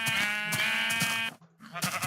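A Minecraft sheep bleats several times in the video game, loud and close. The bleats are buzzy and wavering, with a short silent gap before the last one.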